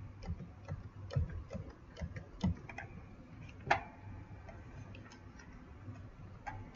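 Quiet, irregular mouse clicks and keyboard taps at a computer while setting options in Revit, a few sharp clicks spaced across several seconds over faint room noise, with no talking.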